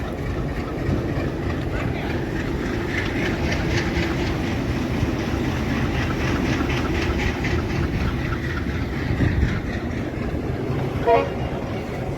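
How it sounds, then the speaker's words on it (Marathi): A train hauled by two engines rumbles steadily along the track near Beed with a rhythmic clatter of wheels, a horn tooting faintly in the distance, and a brief sharp tone near the end. "हे पहा ट्रेन चालली आहे पुढं"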